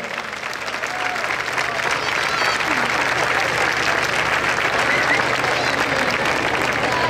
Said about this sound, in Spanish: le diéramos un fuerte aplauso a este grupo, a Taiko Moon